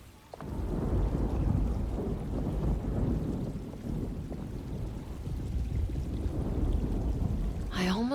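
A thunderstorm in the game Alone in the Dark brings heavy rumbling thunder and rain in a continuous loud wash, with a brief higher tone appearing at the very end.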